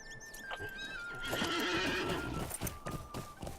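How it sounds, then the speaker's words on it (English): A horse in the Lord of the Rings Online game whinnies loudly as it is mounted, followed by several quick clip-clopping hoofbeats, heard alone with no talk. "So get on my horse."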